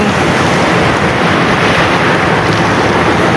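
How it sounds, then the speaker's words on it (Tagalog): Loud, steady roar of ocean surf at a seaside park on Al Kurnaysh Road, with wind buffeting the microphone, continuous and close, with no voices. "Grabe oh, yung alon no."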